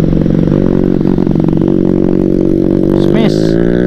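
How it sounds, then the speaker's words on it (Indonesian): A loud motorcycle engine drones steadily up close, its pitch rising as it revs, with some clattering and a voice briefly over it. "Ngeri suara motornya."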